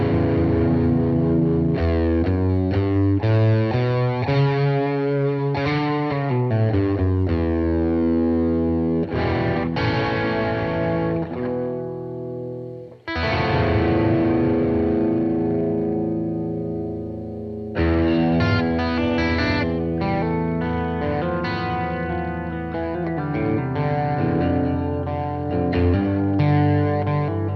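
Distorted electric guitar plays a dark Phrygian-scale riff, thick chugging notes with effects, looping phrases with a brief pause near the middle, loud and alone.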